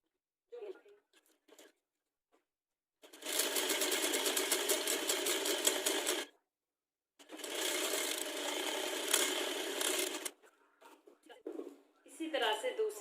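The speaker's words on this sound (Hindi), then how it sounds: "जो हमने निशान लगाए हैं इन निशानों पर सिलाइयाँ लगा लेंगे" A sewing machine stitches a girls' top along marked lines in two long, steady bursts of rapid running, separated by a pause, with brief handling sounds and faint speech around them.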